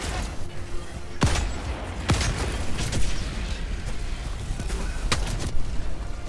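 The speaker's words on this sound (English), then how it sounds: "explosion just jogged my aim" Explosions and gunfire from a solo Automaton mission in Helldivers 2: sharp blasts at intervals over steady battle noise, with a few loud booms standing out near and punchy.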